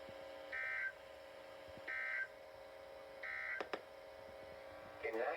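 A NOAA Weather Radio emergency alert system test sends three short bursts of two-tone data signal spaced at regular intervals over a steady low hum, followed by a brief louder burst at the end.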